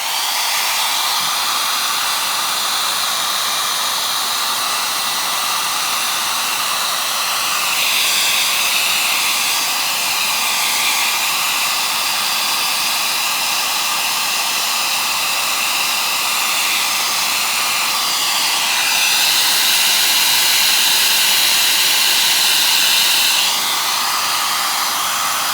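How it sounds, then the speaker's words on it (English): A hairdryer blows continuously on leather during a repair, with a loud, steady hiss and whoosh, rising slightly in intensity at moments, with no voices. "just put up with the noise for a few minutes from the hairdryer"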